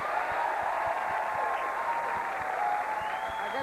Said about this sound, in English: applaud.